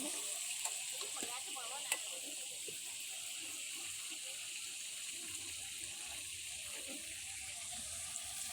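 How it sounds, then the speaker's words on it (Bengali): Shukto cooking in a pan outdoors in a field, a steady soft sizzle with occasional stirring clinks, quiet and continuous throughout. "এখন স্যার শুক্তো রান্না করছে।"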